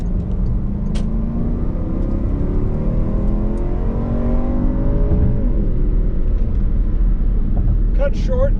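Car accelerating up a highway on-ramp, engine note rising steadily in pitch through the gears beneath a constant road rumble, with people talking inside the car near the end.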